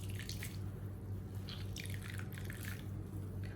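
Water drips and trickles from blanched, finely chopped spinach being squeezed in a home kitchen, with soft, irregular splashes over a steady low hum and no voices.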